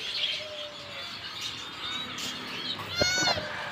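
A cat meows briefly among mixed birdsong and chatter at a Dhaka animal market, with a short, sharper cry near the end standing out over the busy background.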